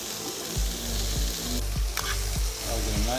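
Steady loud sizzling and crackling of vegetables stir-frying in a hot pan, with a few soft clinks and scrapes as they're stirred.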